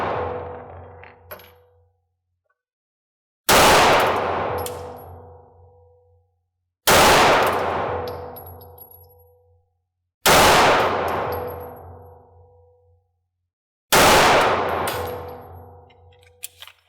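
A Canik 9mm handgun fires five rounds at 50 feet on a range. The loud, cracking shots are spaced a few seconds apart, and each rings out and decays into silence before the next.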